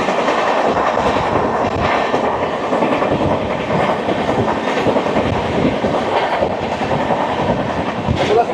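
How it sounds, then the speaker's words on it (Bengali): The Vande Bharat Express, train 22301 from Howrah to New Jalpaiguri, passes close by in a loud, sustained roar with rapid clickety-clack of wheels over rail joints and a thin squeal, steady throughout. "চলে আসছে ট্রেন নাম্বার 22301, হাওড়া থেকে নিউ জলপাইগুড়ি, বন্দে ভারত এক্সপ্রেস।"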